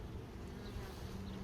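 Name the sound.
queenless honey bees buzzing in open hive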